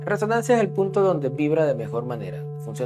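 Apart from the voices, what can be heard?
No everyday noises stand out.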